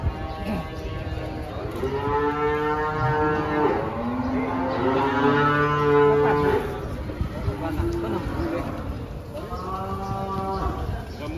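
Cattle at a busy livestock market for sacrificial animals low repeatedly in long drawn moos, several overlapping and fairly near, over crowd murmur and voices talking.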